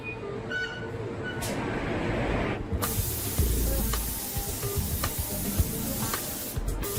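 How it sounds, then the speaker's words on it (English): Spray gun applying paint to a large Koenigsegg supercar body part in a paint booth, a steady hissing spray that starts abruptly and runs continuously with faint mechanical clanks behind it. "Only when it's flawless will paint be applied."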